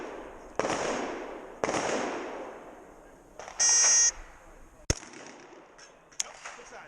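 A shot timer's electronic buzzer sounds one short steady tone to start a shotgun stage at an action shotgun match, followed by shotgun blasts and sharp reports before and after it, with no speech.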